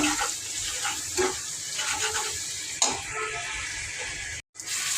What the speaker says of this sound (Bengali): টমেটো দিয়ে কষানো হচ্ছে। কষিয়ে মাছটা কষিয়ে দিলাম।